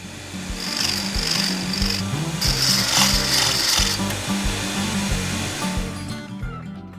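Grinding drill-bit sharpening in a Parkside PBSG 95 G6 electric sharpener as the bit is turned left and right, a loud close motor hum with a rasping, shifting scrape throughout.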